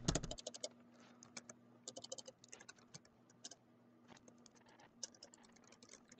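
Fast, irregular clicking of keys on a computer keyboard, typed in short bursts with brief pauses, close and fairly quiet, with no talking.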